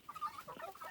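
Guinea fowl from a breeding pair in a farm pen give short, clucking calls in a quick, irregular series, faint and fairly near, with no talk.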